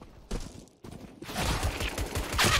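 Counter-Strike: Global Offensive gunfire crackles in dense rapid bursts, starting with a couple of short volleys and building into sustained loud automatic fire, close and alone.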